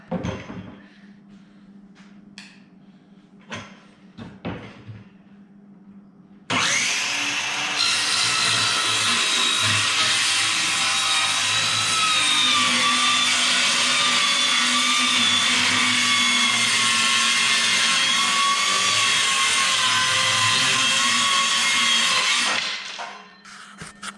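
Saw cutting through wood framework for an under-stairs lawnmower cupboard, a loud continuous rasping run of about fifteen seconds that starts abruptly after a few quiet knocks and handling noises, then stops.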